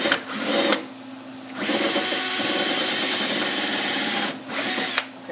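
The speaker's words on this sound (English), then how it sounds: "now I'm going to drill the hole in the side" A power drill whirs steadily into wood, starting and stopping a few times in short bursts, close by and loud with no talking.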